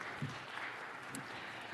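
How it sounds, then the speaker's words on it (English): A city council meeting audience gives a round of applause for a visiting official from Porto Alegre, Brazil, heard as a faint, steady patter of clapping at a distance. "Let's give Walter a round of applause"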